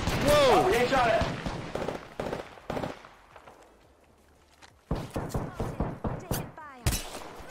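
Apex Legends gunfire cracks in rapid bursts, with a voice talking over the opening shots and more volleys of quick repeated shots near the end.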